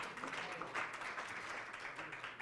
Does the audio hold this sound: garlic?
no